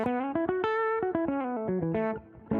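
Effects-laden electric guitar plays a quick melodic run in A mixolydian, single notes picked and bent in a lively phrase, bright and sustained, then fading before a last attack.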